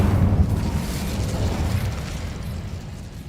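In the Hogwarts Legacy video game, an Incendio fire spell bursts with a loud, sustained roaring whoosh that slowly fades, with no voices.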